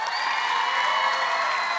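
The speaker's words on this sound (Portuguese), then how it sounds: "Uma grande salva de palmas." A large theatre audience at a televised talent show gala gives a big round of applause with cheering and whoops, a continuous dense roar lasting under two seconds.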